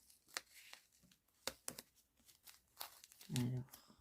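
Wide adhesive tape is torn and handled during a Christmas Santa-sack craft, giving scattered quiet crinkles and tearing rips with one louder burst near the end.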